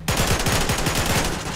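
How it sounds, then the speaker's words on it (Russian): Rapid automatic gunfire in the video game Garry's Mod sounds as a loud, steady burst of rattling shots, evenly spaced and continuous throughout, with no talk over it. "видимо, нас стреляют"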